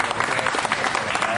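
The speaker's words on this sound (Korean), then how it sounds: "미리 기다리던 강훈식 비서실장 일행은 안도의 박수로 맞이했습니다" Relieved applause from the waiting chief of staff's group at an airport arrivals hall as detained citizens return on a chartered flight, brief steady clapping of a small crowd under a reporter's narration.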